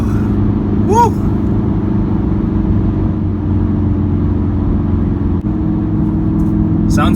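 A VW Golf R MK7.5 launches hard, its engine droning loud and steady with a strained tone throughout, while a voice briefly whoops over it partway in.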